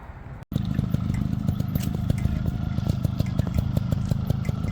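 A Yamaha YZ125 two-stroke dirt bike being ridden, its engine buzzing loud and steady after a brief cutout near the start, revving with a rapid rattling rhythm close by.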